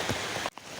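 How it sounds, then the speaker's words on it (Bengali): Rain falling outdoors near a river during a downpour, a dense close patter on surfaces that cuts out briefly midway before resuming. "অনেকদিন পর বৃষ্টিতে গোসল করতেছি"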